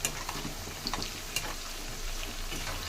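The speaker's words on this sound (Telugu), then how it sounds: "ఇదిగోండి కాకరకాయలు వేయిస్తున్నాను." Bitter gourd pieces fry in an oil-filled pan, giving a steady close sizzle with occasional small pops and stirring clicks, and no talking.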